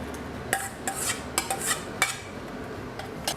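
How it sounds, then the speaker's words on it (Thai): Pork mixed with blood dry-stir-fried in a pan for northern Thai larb khua, with a utensil scraping and clinking against the pan in a quick uneven series of close, fairly loud strokes, no voices. "จากนั้นก็ตามด้วยหมูนะครับ ที่ผสมเลือดไว้เลยนะครับ"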